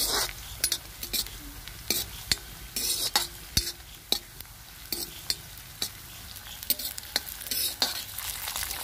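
Finely chopped green chili, ginger and onion sizzle quietly in a pan for a cabbage dish, with a soft continuous frying hiss. Irregular clacks and scrapes from a stirring spoon break through it, and nobody speaks.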